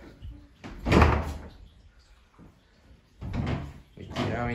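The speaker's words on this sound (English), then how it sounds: "Official front door." A house front door is opened with a few bumps and knocks amid a spoken property walkthrough.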